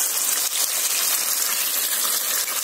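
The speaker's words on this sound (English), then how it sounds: "We're pouring like all of the cup." Sauce poured over Moroccan fish, a loud continuous hissy gush of liquid streaming steadily at close range, with no speech over it.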